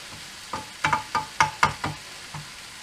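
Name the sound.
beef mince frying and being stirred in pan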